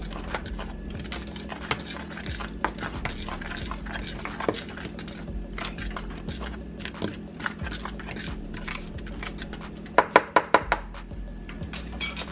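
A spoon scrapes and clinks around a bowl as black pepper is stirred into mustard-coated corn, with a quick burst of sharper taps near the end over a low steady hum.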